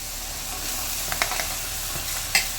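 Chopped bottle gourd slides into hot tempering oil with a constant close sizzle and hiss, punctuated by a few light clicks and scrapes of the spoon.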